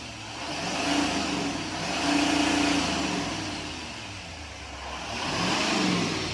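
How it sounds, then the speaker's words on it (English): A 2026 GMC Sierra Denali 2500 with its stock intake revs three times. Each rise and fall of engine note is separated by a brief settle back toward idle, close and moderately loud, with no talking. "Here is a stock rev before we put the cold air intake on."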